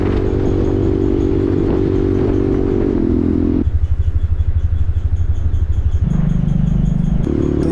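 Motorcycles riding off on a mountain road trip between McLeodganj and Chandigarh, their engines close and loud in a continuous drone that steps up and down in pitch as the gears change. No talking.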